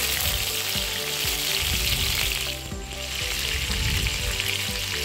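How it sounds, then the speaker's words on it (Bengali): Pointed gourd (potol) pieces sizzle and crackle steadily in hot mustard oil, a loud, continuous close frying hiss with small pops throughout. "এবার আমি একটা একটা করে পটলগুলোকে দিয়ে দিচ্ছি ভাজার জন্য।"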